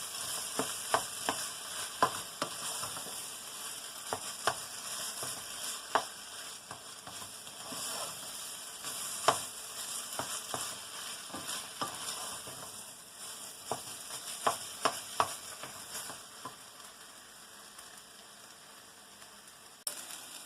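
Panch phoron spices crackle in oil over a mixed vegetable labra, giving a thin, even sizzle with many scattered pops and small taps spread through the stretch. No voices are heard.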